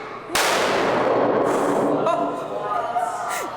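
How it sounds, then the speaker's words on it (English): A supersonic explosion set off in a live science demonstration: one sudden, very loud blast that ends in a long, rumbling noisy decay, with a faint ringing tone near the end. "That is because that is a supersonic explosion."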